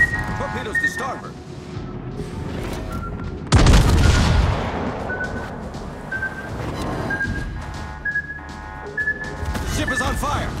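A sudden heavy explosion from a torpedo strike on a ship, a single loud boom with a rumbling tail, set among tonal alarm-like beeps and voices talking before and after.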